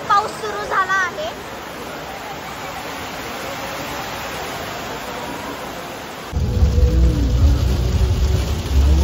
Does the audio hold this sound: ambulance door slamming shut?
no